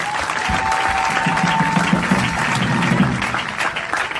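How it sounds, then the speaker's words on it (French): A large crusade audience at a religious gathering in Ebolowa, Cameroon, applauding and cheering for Jesus: a loud, continuous wash of clapping and crowd noise with scattered voices and a sustained tone, filling the whole stretch. "Est-ce que tu peux acclamer pour Jésus?"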